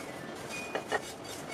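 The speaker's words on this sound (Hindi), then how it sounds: "पैन में ही इसे 30 सेकंड के लिए चलाते रहेंगे" A spatula scrapes and clinks against a pan while a semolina and raisin mixture is stirred, two quick metallic taps over a low scraping hiss, close by with no talk.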